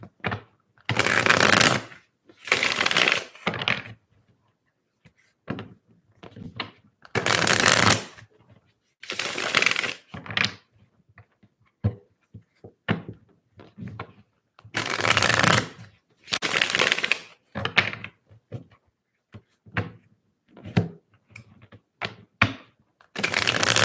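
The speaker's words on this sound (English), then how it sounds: "I'm going to take a different deck to shuffle" A deck of tarot cards shuffled by hand in repeated bursts of riffling and flicking, loud and close, with brief pauses between rounds and no talking.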